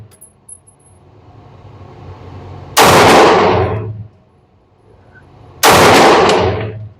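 Two loud, close gunshots from a Taurus G2C/G3C compact pistol at a shooting range, about three seconds apart, each with a sharp crack and a decaying echo, no talking between them.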